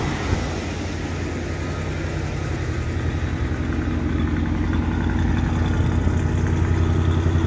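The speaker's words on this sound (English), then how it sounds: "this freaking engine sounds great" A 1968 Ford Galaxie XL convertible running at idle just after its first start, with a brand new exhaust; a steady, loud, low rumbling idle that holds even and continuous throughout, with no voices.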